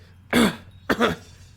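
Two deliberate, forced coughs close to the mic, spaced apart, sounding exaggerated and theatrical against a quiet background.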